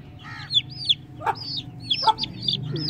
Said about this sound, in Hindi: ये वाला जो है ना एक मुर्गा है दोस्तों, ये मेल है, मेल चिक है दोस्तों